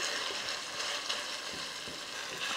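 Hamburger meat browns in a pan with a continuous bright sizzle and crackle, close and steady, no voices.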